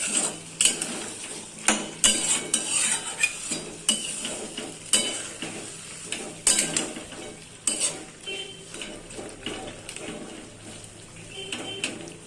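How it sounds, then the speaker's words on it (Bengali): Kasuri methi chicken curry with cashew paste being stirred in a pot, with a spoon repeatedly scraping and clinking against the metal in an uneven rhythm over a faint sizzle. "তো এবার আমি ভালো করে এটা মিশিয়ে নেব।"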